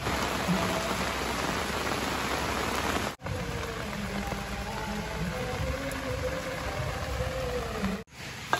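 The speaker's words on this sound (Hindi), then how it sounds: "हमारे यहाँ बारिश होने लगी है।" Rain falls steadily in a dense, even hiss of drops hitting surfaces, broken by two brief dropouts, with no voices.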